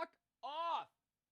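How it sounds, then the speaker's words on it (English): Pigeon cooing right outside a window, a single close, fairly loud drawn-out coo lasting about half a second after a brief murmur at the start. "I don't know if you can hear the pigeons, but it's like right outside the window here."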